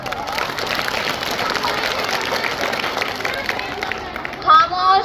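Audience at a school Independence Day performance at Islaheaam Inter College, Bhaguwala, with steady crowd clapping and babble throughout, closing with a brief louder burst.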